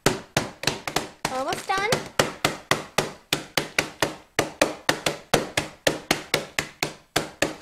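Oreo cookies being whacked into coarse crumbs, a rapid run of sharp, loud thuds at a steady, slightly irregular rhythm, close by, with a brief voice in between.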